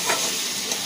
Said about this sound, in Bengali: চিচিঙ্গা ভাজা বসিয়ে দিয়েছে, আর হয়েও এসছে